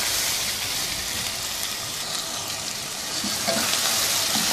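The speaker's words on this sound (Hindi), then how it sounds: "अच्छी तरह से भून लिया है।" Mutton browns in a hot pot for stew, giving a steady, dense sizzle that fills the whole stretch, close and fairly loud with no talk.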